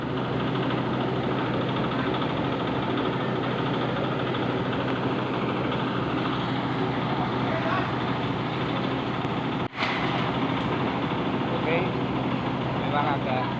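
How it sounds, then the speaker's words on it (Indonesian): Diesel engine of a concrete mixer running steadily at a mosque slab-pouring site, a loud continuous drone that fills the whole stretch with one brief dip near the end. "ini suara saya barangkali kalah dengan suara molennya, suara mesin molennya."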